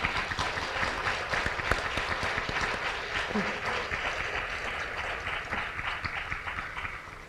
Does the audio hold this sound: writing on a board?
no